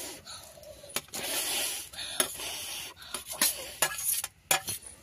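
Soaked rice going into boiling milk in a pot for Bengali payesh, with close clinks and scrapes of a utensil against the pot over a bubbling simmer.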